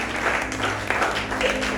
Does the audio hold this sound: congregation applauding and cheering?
yes